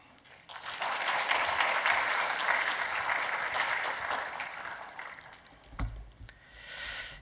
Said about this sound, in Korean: 우리 목사님 나오실 때 환영의 박수로 맞아주시면 좋겠습니다.